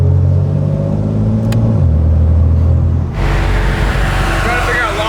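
A McLaren 720S idles with a deep steady engine rumble that drops in pitch, then surges into a louder, rougher rev during a launch-control attempt, close and loud throughout.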